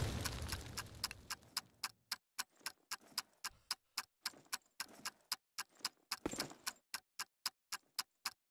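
A planted bomb ticks in a tactical multiplayer shooter match, a steady run of loud, sharp, evenly spaced ticks that follow a brief noisy burst of game sound, growing more prominent as the other noise fades.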